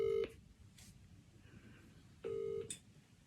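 A phone dials out to call a mother, giving a short electronic tone, a pause, then another tone and faint beeps, quiet and close with no voices.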